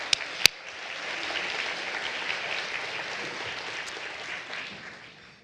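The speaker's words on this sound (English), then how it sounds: "So would you please give a round of applause and welcome them?" A luncheon audience at a church women's gathering breaks into steady, warm applause, a dense wash of many hands clapping that holds for several seconds, then tapers off near the end without any voices.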